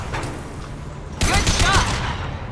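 Gunfire rings out in the Mass Effect 2 video game: a quieter stretch of low ambient hum gives way to a sharp, loud volley of rapid shots that rattles on for a second or so before easing off.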